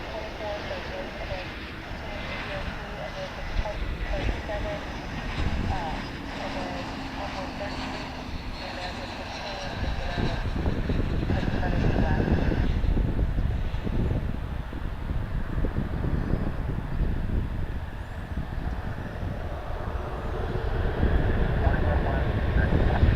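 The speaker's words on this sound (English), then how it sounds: "American Flight 1281, an Airbus A321 arriving from Fort Myers, Florida." An American Airlines Airbus A321 arriving at Dallas/Fort Worth airport in fog gives a steady, broad jet engine roar that swells louder partway through and stays constant, with wind noise on the microphone.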